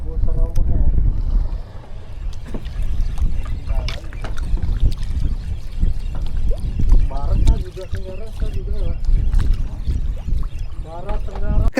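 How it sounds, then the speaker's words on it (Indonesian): A fishing boat rides big ocean waves, with continuous loud wind buffeting and water rushing against the hull, broken by thumps and splashes, and voices in the clip. "Ombaknya sangat gede."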